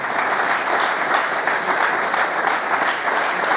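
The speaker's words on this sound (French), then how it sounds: "Merci d'applaudir Antoine Gazal" A closing-ceremony audience at a poker tournament applauds a prize winner: dense, sustained, fairly loud clapping from many hands, steady throughout with no speech.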